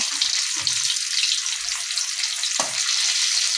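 Oil hisses and sizzles steadily as hilsa fish fries in a pan, with a few soft low bumps and a brief clink partway through.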